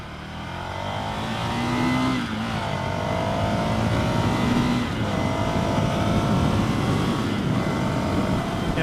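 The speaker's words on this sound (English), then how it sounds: "this bike's pretty effortless to ride, man, on the highway" A 2015 Ducati Scrambler motorcycle cruises on the highway, its engine a steady mid-pitched hum under heavy rushing wind noise, with slight rises in pitch as it accelerates, close and continuous throughout.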